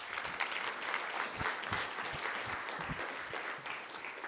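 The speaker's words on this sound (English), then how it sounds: "Can we have a round of applause for him?" A lecture-hall audience applauds for a newly introduced associate professor at the opening of a university computing course, a steady dense patter of many hands clapping throughout.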